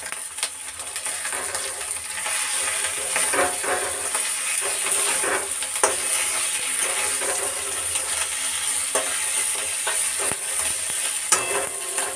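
Garlic and ginger paste fries in a pan with a continuous close sizzle and hiss, broken by occasional clicks and taps of a spoon stirring against the metal.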